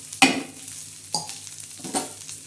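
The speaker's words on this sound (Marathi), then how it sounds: "आता त्याच्यामध्ये हे जे आपण कुटण केलेलं आहे ना आपलं खोबरं आणि लसण हा त्याच्यात भाजून घ्यायचं" Pounded coconut and garlic roast in hot spiced oil for a black-masala chicken curry, stirred in three distinct scraping strokes over a soft steady sizzle, close by with no speech.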